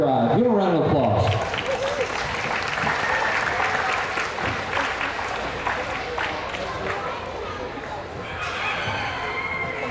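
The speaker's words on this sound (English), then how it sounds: "Give a round of applause." Applause from the audience at a county fair livestock show fills the event center, a dense, steady clatter of clapping that starts strong, holds for the full stretch, and has a few voices mixed in.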